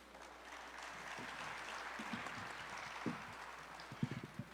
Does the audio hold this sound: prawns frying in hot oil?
no